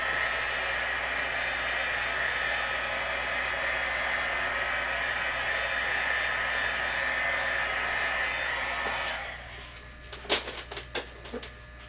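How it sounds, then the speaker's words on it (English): A heat tool blowing steadily to dry ink on cardstock, a loud, even whoosh held for about nine seconds before it switches off, followed by a few light clicks and handling taps. "If you want to zap that with a heat tool, you can."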